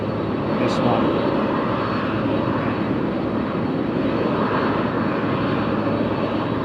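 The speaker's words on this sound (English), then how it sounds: "These Boeing jets, beautiful, lovely sound of those. I think they're CFs, the CF6." A Boeing jet with CF6 engines at East Midlands Airport during cargo operations, a loud continuous engine roar holding steady throughout, fairly close, with voices over it.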